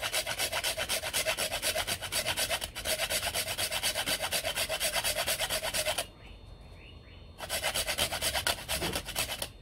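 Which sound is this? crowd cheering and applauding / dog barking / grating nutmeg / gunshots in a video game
grating nutmeg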